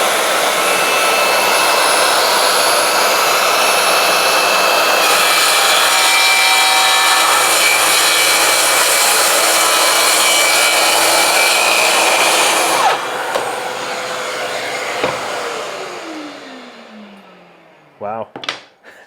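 A cordless track saw, DeWalt DCS520 or Festool TSC 55 K, plunges into thick wood with dust extraction running, giving a loud steady whining cut that ends, then the motor winds down with falling pitch and a few final clunks.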